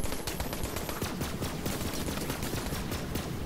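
Rapid automatic gunfire from a gun in Borderlands 3, a dense, loud stream of shots rattling on continuously with no pauses.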